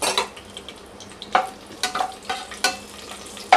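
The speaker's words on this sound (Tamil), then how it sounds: "இப்போ எல்லாத்தையும் நல்லா வந்து இதில் ஃப்ரை பண்ணிக்கலாம்." Green chillies with bay leaf, cinnamon and star anise sizzle in oil for chicken biryani, with a soft frying hiss broken by several clinks and scrapes of a spoon stirring the pan.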